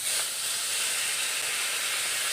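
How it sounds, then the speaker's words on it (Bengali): Turmeric- and salt-coated tilapia pieces fry in hot oil in a wok, giving a steady, even hiss and sizzle that carries on without pause, fairly close and alone with no talk. "এখন কড়াইয়ের মধ্যে মাছগুলি দিয়ে দিচ্ছি"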